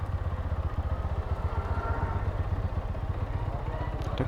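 A GPX Demon motorcycle rides along a road, its engine throbbing in a fast, steady low pulse. The sound is close and loud throughout, with some wind and road rumble mixed in.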